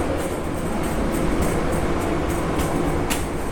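Steady, loud rumble and rolling noise of an Auto Train passenger train, continuous and close with faint rhythmic clatter, no one speaking.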